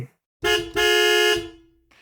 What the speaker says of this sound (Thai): เสียงแตรจากรถคันหลังดังขึ้น